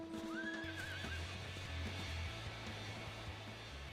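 A large, shiny dragon-like horse mount in Final Fantasy XIV gives a clear, rising whinny early on, over steady low game music and ambience with some hoof clip-clops.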